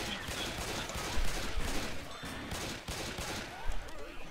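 Rapid, dense AK rifle fire in Left 4 Dead 2 during a co-op Death Island match, loud continuous bursts with heavy low-end thumps running through the whole stretch, barely a pause between shots.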